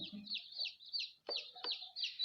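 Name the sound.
chickens clucking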